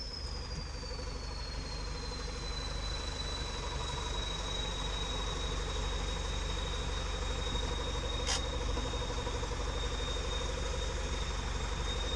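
A Zetor tractor engine running without a silencer, a loud, steady low drone with a high whine gliding slightly downward and one brief click partway through.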